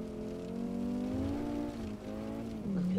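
An 1980s Audi Sport Quattro rally car engine drones loudly and steadily, its pitch rising and falling slightly as the car is driven, with a brief dip near the end.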